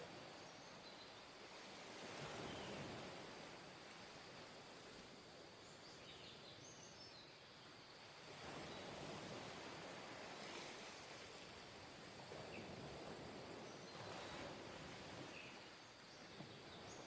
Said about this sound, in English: can everybody hear the waves now?